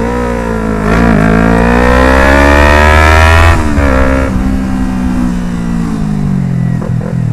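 Yamaha MT-25 motorcycle fitted with an Avionic full system exhaust, revving hard and accelerating up through the gears, with loud rising engine tones, brief dips between shifts, and the raspy exhaust close and dominant throughout.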